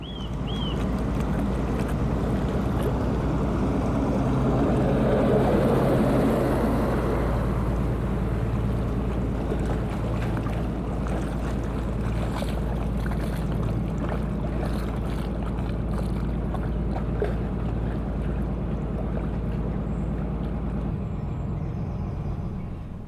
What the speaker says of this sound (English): And here comes a CRT workboat, not the most streamlined of craft.